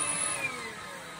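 Makita DCL180 cordless vacuum cleaner running with a steady, airy whine and broad hiss, heard close up and continuous without any talking.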